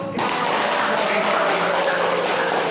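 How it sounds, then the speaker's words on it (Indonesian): A classroom of students applauds their classmates' test scores, a steady, dense wash of clapping that starts abruptly and carries on evenly for a few seconds, fairly close. "Boleh tepuk tangan untuk"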